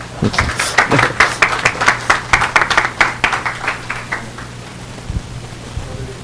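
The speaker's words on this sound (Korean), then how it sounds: "우리 저기 장 교수님한테 한번 박수" A lecture audience at an evaluation forum breaks into applause for a professor being introduced, a burst of many hands clapping that swells and then fades out over several seconds.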